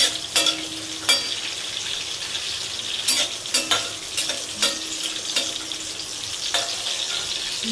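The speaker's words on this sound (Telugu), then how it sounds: "ఇది కొంచెం బ్రౌనిష్ కలర్లో వచ్చే వరకు వేయించుకోవాలి." Leaves frying in a pan until brownish, a steady close sizzle with repeated sharp scrapes and clinks of stirring against the pan.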